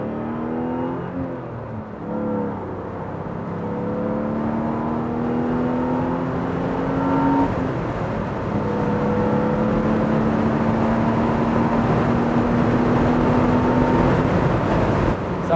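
A 1990s BMW roadster engine revs up through the gears from inside the car, each climbing whine of rising revs dropping at a shift, loud and continuous with road and wind noise.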